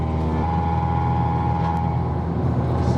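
A loud, steady low exhaust drone from a Stage 2 tuned Abarth cruising on a motorway, constant and booming with road noise underneath.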